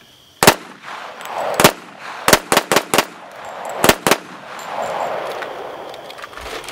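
Eight sharp .45 ACP handgun shots fired outdoors at night, spaced irregularly with a quick cluster in the middle, each a loud crack trailed by a brief echo over a quiet background.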